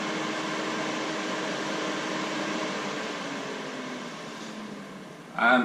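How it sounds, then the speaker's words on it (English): A steady, close whooshing hum of a Xiaomi Mi Air Purifier 2 on high fan speed, broad and even, with a brief click at the end. "air purifier is quite loud and noisy right now"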